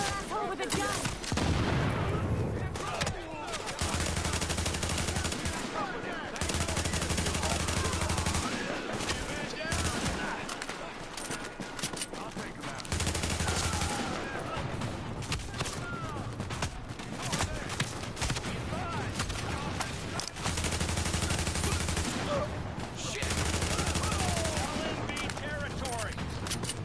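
Sustained bursts of gunfire in Tom Clancy's The Division, loud and dense volleys of rapid shots running almost continuously with brief lulls.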